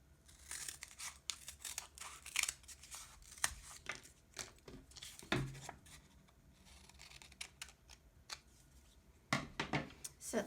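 Scissors cut paper and thin cardboard in half during sock puppet crafting, giving a series of close, crisp snips and rustles in irregular bursts with handling noise between them.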